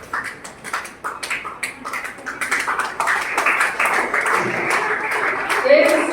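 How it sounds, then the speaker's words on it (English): Students applauding a guest being welcomed on stage at the Bethany Educational Society Platinum Jubilee inauguration, scattered claps building into steady, fuller applause. "A big round of applause,"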